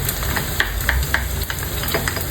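Onions and garlic hitting hot oil at the start of a chicken afritada, giving a steady close sizzle with light scraping stir clicks throughout.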